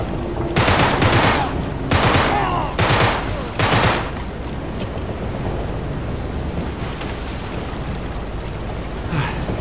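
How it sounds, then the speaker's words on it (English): Gunfire in the video game Uncharted 3 on hard mode: four loud, broad bursts in quick succession over the first four seconds, followed by a steady rumbling wash of game ambience with no clear further shots. "let's just shoot more"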